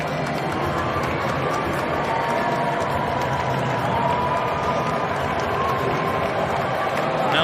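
Large outdoor crowd at the U.S. Open tennis tournament in New York cheering for President Trump, a steady, dense roar of many voices sustained throughout without breaks.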